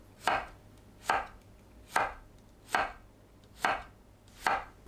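A knife slices zucchini into half-moon pieces about 0.5 cm thick on a board: six crisp, evenly spaced chops in a steady rhythm, close and clear against a quiet background.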